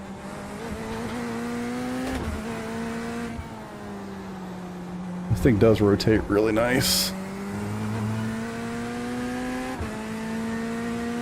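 A GT3 race car in the iRacing sim drones with a steady engine note that rises and falls through gear changes, with a brief burst of harsher revving midway, under someone talking over it.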